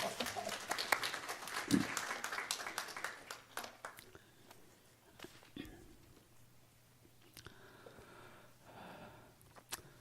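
A church congregation applauds in a burst of clapping that fades over several seconds, leaving scattered claps and quiet room noise.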